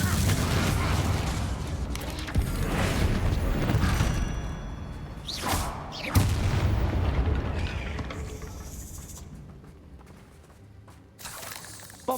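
Bombarda explosion spells blasting in Hogwarts Legacy: several loud booming detonations in the first half, followed by fainter rumbling and a final sharp blast near the end.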